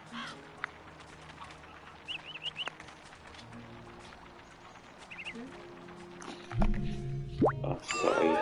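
Birds call in the video game Psychonauts, giving short, separated chirps and warbling tones over quiet game ambience, followed by louder clattering and a burst of bird calls near the end.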